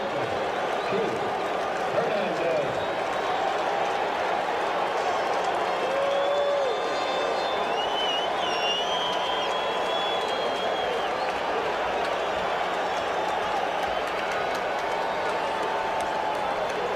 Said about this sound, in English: The crowd is showing life.